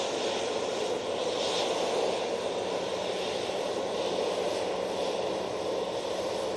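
Airliner jet engines roar steadily as the plane climbs away after a flat takeoff rotation at Manchester Airport, a broad, continuous rumble and hiss holding at an even, fairly loud level throughout.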